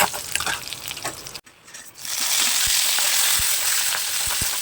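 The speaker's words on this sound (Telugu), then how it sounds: "ఎండుమిర్చి, ఫ్రెష్ కరివేపాకు వేసి వేయించండి." Dried red chillies and fresh curry leaves hit hot oil for a temple-style chickpea tempering, with a brief clatter followed by a loud, steady, close sizzle that fills the rest of the clip.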